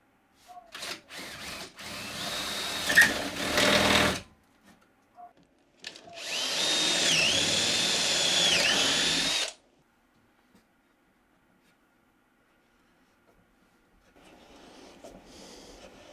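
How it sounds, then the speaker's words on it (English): A power drill bores holes for threaded inserts in a wooden folding-table panel, two loud sustained bursts of whining drilling separated by short gaps, followed by quiet and a faint later hum. "mark out the holes for the threaded inserts and get those drilled"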